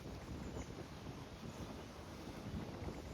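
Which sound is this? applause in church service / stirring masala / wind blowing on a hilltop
wind blowing on a hilltop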